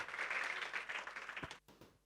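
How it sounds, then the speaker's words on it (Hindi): At a Sri Chaitanya Academy opening event in Nagpur, an audience gives quiet, fairly distant applause as a speaker is called to the stage. The clapping thins out and ends abruptly near the finish. "जोरदार तालियां हो जाए।"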